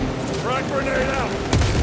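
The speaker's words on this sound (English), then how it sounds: "Frag grenade out." A frag grenade thrown and detonating in the Space Marine 2 game, a short burst of combat noise ending in a sudden sharp blast near the close, with a voice speaking over it.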